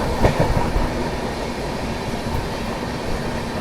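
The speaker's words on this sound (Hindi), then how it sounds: "अब देखो दो ट्रेनें आ रही है, एक उस साइड से भी आ रही है और एक इस साइड से भी।" The Prayagraj Express rushes past on the line in a loud, dense roar of rolling wheels and rail clatter, with a sharper knock right at the start.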